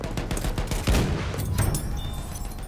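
Automatic machine gun fire in the video game Battlefield 1, a dense sustained burst of rapid shots with a heavy impact near the middle, loud and close with battle noise around it.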